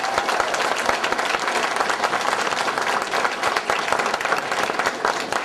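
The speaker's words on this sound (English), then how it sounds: "Let's have a nice round of applause for our Eagle mentors." Sustained, dense applause fills a room at an Eagle Scout Court of Honor as a crowd claps loudly and continuously for several seconds.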